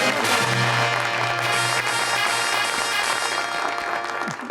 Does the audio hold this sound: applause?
yes